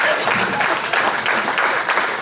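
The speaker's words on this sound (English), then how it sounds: "please give everybody a big round of applause." Audience applause at a 4-H county fair swine show, a steady dense wash of many hands clapping continuously at moderate loudness with no pauses or talk.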